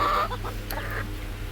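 A hen gives a few short clucks near the start, followed by quieter clucking over a low steady hum.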